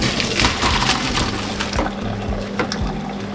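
Water pours out of a pot of boiled potatoes as it is drained, a loud close gush and splash with a few knocks and clunks from the pot.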